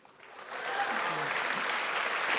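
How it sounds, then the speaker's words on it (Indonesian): An audience bursts into applause, the clapping swelling within the first second into a dense, sustained roar that holds steady to the end. "tepuk tangan dulu"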